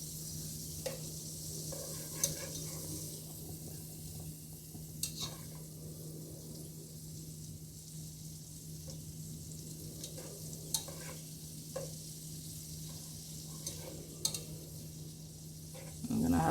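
Garlic sizzling in melted butter in a pan, stirred with a whisk: a steady low frying hiss with faint scattered clicks of the whisk against the pan, fairly quiet and continuous with no talk.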